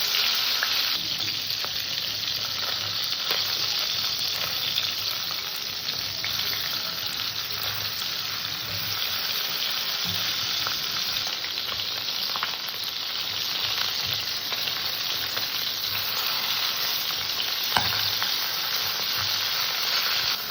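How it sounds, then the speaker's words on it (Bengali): Two tilapia fish coated in turmeric and salt frying in hot oil, a steady, dense sizzle that holds evenly throughout with small crackles popping up here and there. "মাছে হলুদ লবণ মাখিয়ে মাছ দুটোকে ভেজে নেব"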